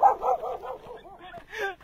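A dog gives short yips and barks nearby, a few quick bursts with a whimpering edge, mixed in with faint voices.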